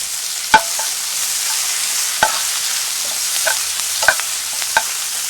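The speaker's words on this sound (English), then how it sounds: "Adding some fresh garlic cloves. Adding some onion." Fresh garlic cloves and onion sizzle steadily in a pot, a continuous close hiss broken by a few sharp clinks and stirring knocks, with no voices.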